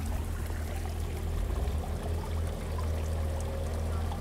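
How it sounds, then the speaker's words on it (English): An Aquascape mushroom fountain's water jet splashes into a pond in a continuous, steady rush and patter, fairly close and moderately loud, with no voices. "We can make this water jet go higher or lower."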